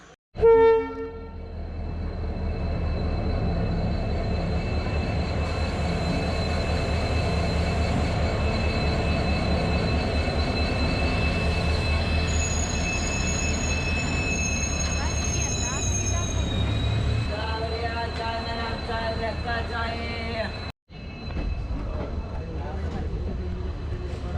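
A passenger train leaving Pune station rumbles steadily along the tracks, with a long horn blast sounding partway through and a brief dropout near the end.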